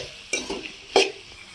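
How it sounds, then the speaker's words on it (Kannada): Sliced onions and chillies in hot oil, two quick stirring scrapes over a faint, low sizzle, close and brief. "ಇವಾಗ ಈರುಳ್ಳಿನ ಅಷ್ಟೇ ಚೆನ್ನಾಗಿ ಫ್ರೈ ಮಾಡ್ಕೊಳ್ಳಿ"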